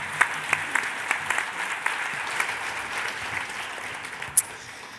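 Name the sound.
audience applause for panel speakers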